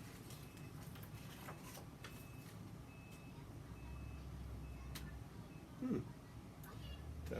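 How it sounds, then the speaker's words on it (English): Snow plow truck reversing beeps repeat at an even pace, faint and distant, over a steady background hum with a brief louder thump near the end. "Sounds like the plow trucks are here."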